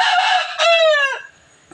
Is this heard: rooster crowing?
yes